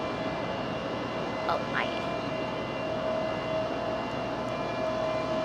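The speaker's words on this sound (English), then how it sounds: "Frontier departing heavy here." A heavy Frontier airliner departs Raleigh-Durham International Airport, its engine rumble a continuous steady roar in the background while a person briefly exclaims over it.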